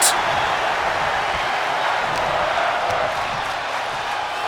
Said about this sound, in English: The crowd loving this matchup, chants of fight forever, suing in throughout this arena.